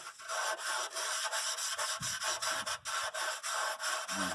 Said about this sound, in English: What kind of grit of sandpaper are you using? This is just a 120 grit.